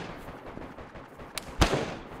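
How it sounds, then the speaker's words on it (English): Sniper rounds strike a carried barrel in the survival game DayZ: a quiet rumbling background, then a sharp crack followed by a heavier, booming impact with a short ringing tail. "I have a sniper shooting the barrel in my hand that I'm carrying"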